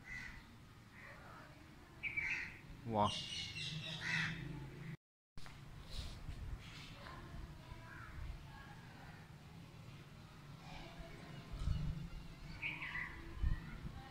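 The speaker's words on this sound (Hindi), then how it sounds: "ये इस चिड़िया की आवाज़ मुसलसल आ रही है" Crows caw and other birds call repeatedly outdoors at moderate distance, with intermittent chirps and caws over quiet background and a brief voice exclaiming once.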